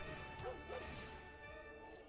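A video game dog gives two short, bright barks in quick succession, set over a steady musical backdrop at moderate volume.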